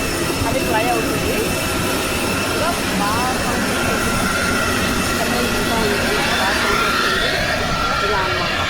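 Steady, loud roar of an airplane engine at Thiruvananthapuram airport fills the whole stretch, a constant droning rumble with faint voices talking underneath.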